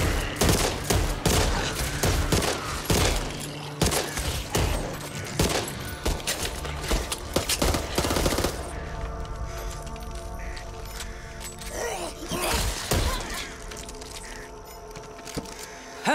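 Dense gunfire rattles through the Back 4 Blood zombie shooter, with rapid overlapping shots packed tightly for the first half, then thinning to scattered bursts and single cracks over a busier background of game effects.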